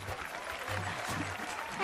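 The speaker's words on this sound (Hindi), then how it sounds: "तालियां बजाओ।" An audience gives brief clapping in a dubbed Hindi film scene, a short burst of applause lasting under two seconds at moderate level.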